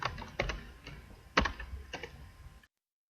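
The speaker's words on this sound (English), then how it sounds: "So here I'm going to type the following." Keys clack on a computer keyboard in a few sparse, quiet taps, with one sharper stroke near the middle, before the sound cuts to silence.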